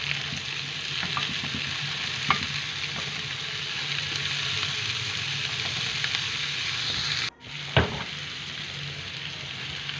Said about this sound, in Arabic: هضيف بقى معايا الفلفل، وهشوح كل الخضار ده مع بعضه